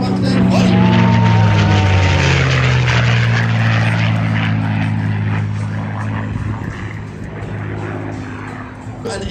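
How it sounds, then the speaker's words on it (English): A vintage P-51 Mustang A-model propeller fighter flies at the El Centro airshow, its loud piston-engine roar sweeping past close by with a rising and falling pitch and gradually fading. "now he gets to pilot the controls of an 80-year-old classic P-51 Mustang"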